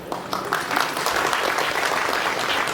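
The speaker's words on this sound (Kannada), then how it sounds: "ಜೋರಾಗಿ ಚಪ್ಪಾಳೆ ಬರಬೇಕು." An audience at a Vishwakarma community gathering in Mumbai breaks into applause, the clapping swelling within the first half second and then holding as a loud, dense, continuous patter.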